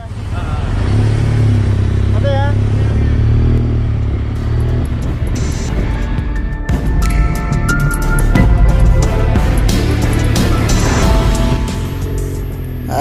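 An underbone kapcai motorcycle rides across a narrow blue iron bridge, its engine droning steadily with rattling clatter from the deck, while people talk over it throughout.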